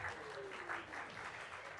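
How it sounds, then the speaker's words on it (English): Church congregation applauding during a Sunday worship service, a soft, steady wash of clapping heard at a moderate distance with faint voices mixed in. "Let's give her another round of applause."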